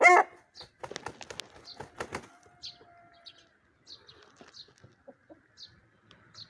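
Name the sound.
rooster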